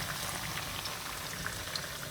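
Black-eyed pea fritters fry in oil in a pan with a steady, soft sizzle and fine crackling, faint and even throughout, with no voices.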